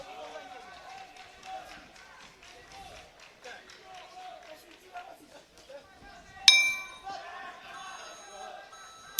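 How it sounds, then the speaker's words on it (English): The final bell rings once, loud and sharp, at an IBA World Championships boxing bout, cutting through crowd noise and a commentator's voice and then fading with a long ring. "And there goes the final bell."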